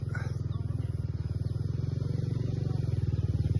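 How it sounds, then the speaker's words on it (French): A lone scooter engine runs in a village in Laos near Muang Ngoi, a close, steady throbbing putter with an even rapid pulse that holds for several seconds. "Le seul scooter qu'on a rencontré."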